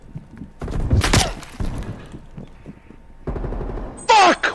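Gunfire in the video game Call of Duty: Black Ops Cold War: loud, close bursts of shots and impacts with thuds between them, ending in a sharp blast.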